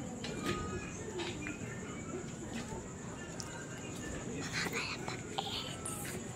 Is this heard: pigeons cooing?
yes